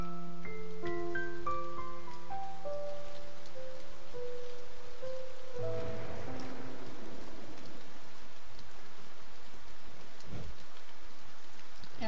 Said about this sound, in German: Ja, ein bisschen Regen.